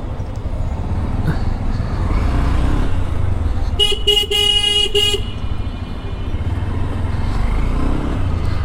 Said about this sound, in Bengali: হর্নটা আমার কাছে বেশ জোস লাগতেছে